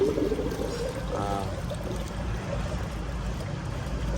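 Water pours and gurgles as it is flushed through the cooling system of a Pajero engine with the compressor removed, a steady running stream with a brief trickling splash, close and alone.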